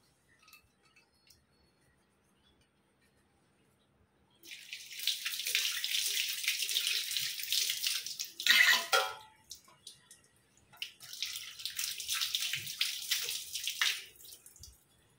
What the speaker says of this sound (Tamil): ஸோ நான் அந்த எண்ணெய் பிசுக்கெல்லாம் வாஷ் பண்ணி எடுத்துட்டேன்